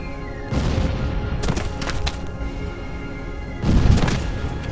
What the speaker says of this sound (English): My guns are firing at mobs.